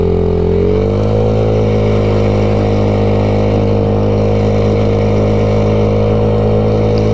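A 2021 Maddog Generation V 150cc scooter engine idling slightly high at just over 2,000 rpm, a loud, steady, close-up drone that settles into an even hum after a brief dip at the start.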